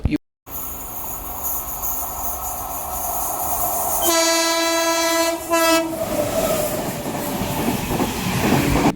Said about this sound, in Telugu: ఇప్పుడే మన ట్రైన్ బయలుదేరింది